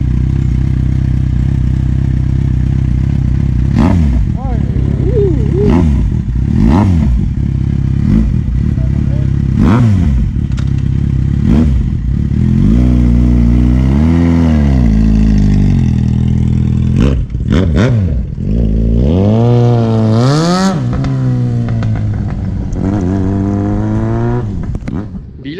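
A Yamaha XJ6N motorcycle engine revs hard again and again, loud and close, with rising and falling whines through repeated throttle blips, while voices talk over it.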